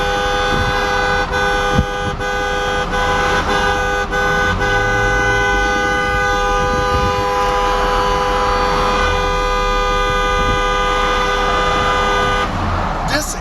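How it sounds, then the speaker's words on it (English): Car horns blare steadily in heavy traffic, a loud sustained honking that runs the whole way through over engine rumble and faint voices. "You got random people honking at us."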